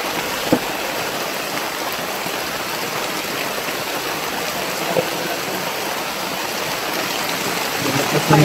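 Steady rain pours down in a dense, even hiss close by, a continuous wash with occasional louder drops and knocks, with no talk heard.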